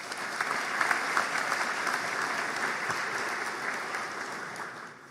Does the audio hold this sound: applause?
yes